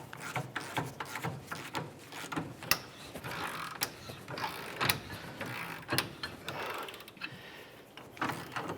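Leaf spring shackle bolts being snugged up on a 2004-2015 Nissan Titan, giving close metallic ratcheting and clicking with sharp knocks and rubbing scrapes spread unevenly throughout.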